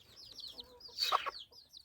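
Chickens clucking and chirping nearby, a short burst of louder squawking in the middle over a low background murmur.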